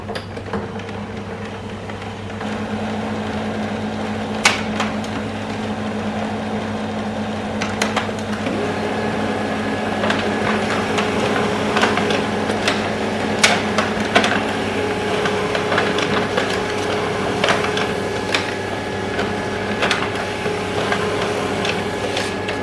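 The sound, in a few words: laser printer copying a document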